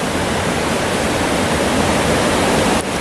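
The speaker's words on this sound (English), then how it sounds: "So we've reached these middle falls." Middle falls on the Elidir Trail rush in a continuous, loud, broadband roar of falling water, steady and close with no talking.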